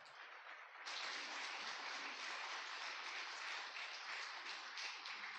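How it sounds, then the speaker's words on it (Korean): A church congregation gives a sustained round of applause to welcome a singer onstage, starting softer and then swelling into broad, steady clapping that fills the room, with no voices on top. "큰 박수로 환영해 주시기 바랍니다"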